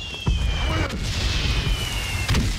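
Heavy cannon fire booming in Valiant Hearts: The Great War, a World War I battlefield game: deep, loud blasts land near 0.3 s and again near 2.3 s over a rumbling low din, with a steady high whine running through the scene.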